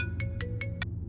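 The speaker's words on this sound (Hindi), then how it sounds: "मेरा फोन" Mobile phone ringtone in a Hindi-dubbed South Indian horror film: four short, bright electronic tone bursts in an even rhythm, fairly loud over a low rumbling background, with no talking.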